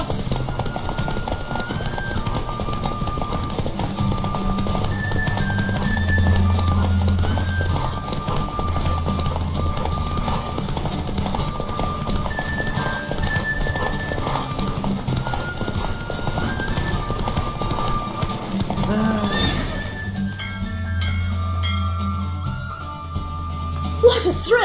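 Fast, rhythmic hoofbeats of a horse galloping in The Witcher 3: Wild Hunt, loud and continuous under game music, with a brief whinny-like cry near the end.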